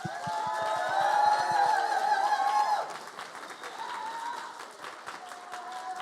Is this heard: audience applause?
yes